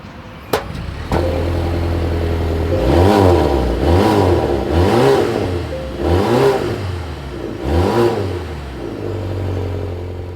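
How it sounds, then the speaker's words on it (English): Exhaust of a 2024 Volvo S90 Recharge plug-in hybrid sedan, a loud close idle hum that rises in several repeated revving bursts and falls back, ending on a steady idle with no one talking. "As always, here is that exhaust clip."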